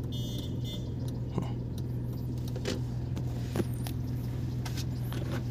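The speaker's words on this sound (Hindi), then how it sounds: "इको कार जो आ रही है उसे निकल लेते पहले।" A Maruti Eeco car passes along a narrow village road, its engine a steady low hum held throughout, with faint clicks and brief rattles over the drone and no talk.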